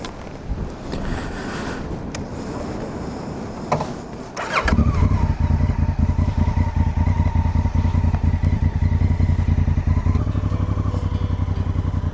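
Honda Africa Twin motorcycle on a ride near a beach, its engine surging up after a few seconds of windy rumble, then holding a loud steady drone with wind buffeting the microphone.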